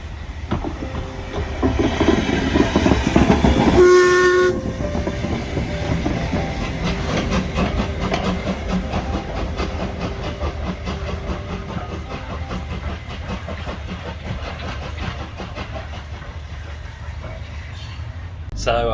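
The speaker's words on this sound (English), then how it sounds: "This is where the locomotive changes ends, so I believe it's just being uncoupled at the western end of the train" Steam locomotive 45596 The Bahamas is uncoupled at the end of its train on the Nene Valley Railway: hissing steam, metallic clanks and a louder clunk early on, then a long, softer mechanical hiss.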